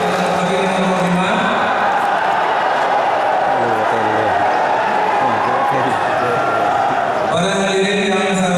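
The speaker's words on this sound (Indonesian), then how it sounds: "Tepuk tangan untuk Bupati" An audience claps for Bupati candidate number 5 at a regional election debate, with loud crowd applause and cheering mixed with voices.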